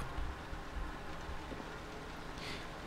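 Steady, soft rain patters continuously in the background of the video game P.T. (Silent Hills), heard outside a window, with no voices and no distinct drops standing out.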